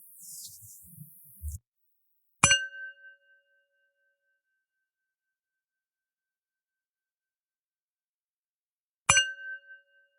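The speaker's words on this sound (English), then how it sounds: "The show will begin after the following chimes." Two clear meditation chime strikes about six seconds apart, each a bright ringing tone that decays slowly into silence, following a brief burst of noise at the start.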